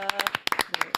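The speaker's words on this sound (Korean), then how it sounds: "추미애 법사위원장님 박수로 모십니다." An audience welcomes Choo Mi-ae, chair of the Korean legislation and judiciary committee, with a short burst of crisp, rhythmic handclaps, close and fairly loud, about eight quick claps within a second.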